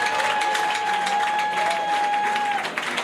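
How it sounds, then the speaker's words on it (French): An indoor audience at a formal event breaks into applause, a steady wash of many hands clapping at moderate volume for a few seconds, with a faint tone ringing beneath it. "Est-ce qu'on peut applaudir pour ça?"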